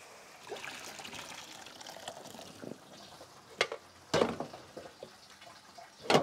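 Water trickles and pours as excess water is drained from a pot of boiled potatoes. A soft steady stream is broken by a few louder splashes and clanks near the end.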